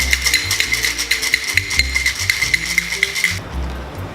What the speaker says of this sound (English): put it in our martini shaker and shake.